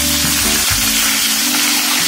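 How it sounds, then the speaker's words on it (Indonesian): Chicken pieces stir-frying in a hot pan for an ayam cah jamur kancing dish, giving a loud, dense, continuous sizzle with a few scraping stir sounds. "ayamnya ini kita tumis dulu"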